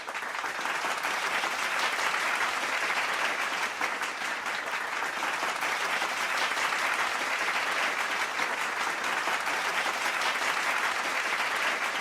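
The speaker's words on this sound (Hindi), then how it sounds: "उन सभी ईडी अचीवर्स के लिए एक बार जोरदार तालियां होनी चाहिए" Audience applause at an award celebration for achievers, a steady, dense wash of clapping that holds at even loudness for about twelve seconds with no break, fairly close and full.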